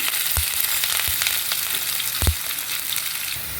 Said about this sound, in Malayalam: നമുക്ക് അതിലേക്ക് ആദ്യം തന്നെ ഈ മുതിരയും അതേപോലെ തന്നെ നമ്മൾ കഴുകി വൃത്തിയാക്കി വെച്ചിരിക്കുന്ന മല്ലിയും കൂടി ഇട്ട് കൊടുക്കാം